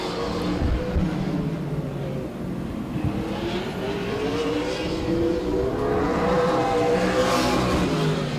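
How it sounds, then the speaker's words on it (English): Super late model race cars run a qualifying lap at Auburndale, their engines roaring steadily and loudly throughout, with pitch climbing and swelling as the cars accelerate past. "Lovelady taking the checker flag and Allman as well for that final qualifying lap"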